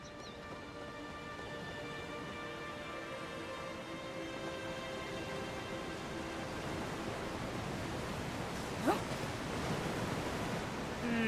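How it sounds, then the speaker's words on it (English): A waterfall in a video game rushes as a broad, steady roar that builds slightly louder over about eleven seconds, with a faint game tone layered beneath and no speech. "Is it this waterfall?"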